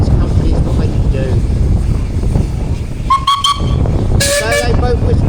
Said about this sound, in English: So they both whistled up to say they're ready